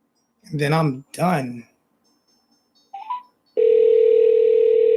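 A steady telephone dial tone comes on loud and continuous after a brief chirp as a call is placed on a sports talk show, following two short bursts of a man's speech.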